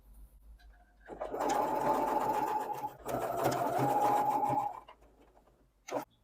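Sewing machine stitching fabric with broderie anglaise trim: a close, steady mechanical whir running in two bursts with a brief pause between, then a short final burst after it stops.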